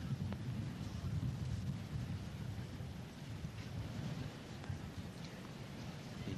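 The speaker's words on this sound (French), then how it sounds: "Et vous pouvez entendre ce vent qui commence à s'accélérer, donc qui passe dans les micros notamment." At the 1998 US Open tennis court, wind buffets the microphones with a continuous low, rumbling roar that swells and eases, punctuated by faint knocks.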